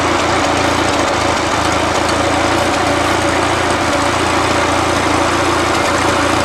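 A 1941 Ford 9N tractor engine idles loudly and steadily up close, a constant rumbling chug with no pauses throughout.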